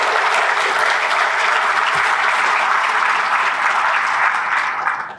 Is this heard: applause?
yes